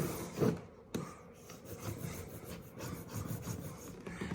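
A paint roller is pushed along a freshly hung wallpaper seam to squeeze out excess paste, giving a steady close rubbing, rolling sound with a few soft bumps near the start.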